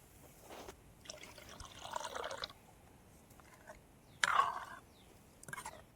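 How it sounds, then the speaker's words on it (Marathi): Water trickles and splashes in short bursts as it is poured into a pan of egg curry cooked outdoors beside a village river, faint and intermittent with quiet gaps. "आता आणखीन थोडंसं पाणी टाकून घेतो"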